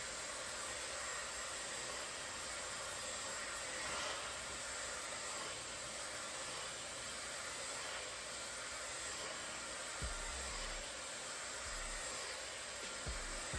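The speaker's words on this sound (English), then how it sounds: "let's see if the Dyson AirWrap can fix it" A Dyson AirWrap hair dryer blows on thick hair with a steady, loud whooshing hiss that runs unbroken throughout, with a few low thumps of handling near the end.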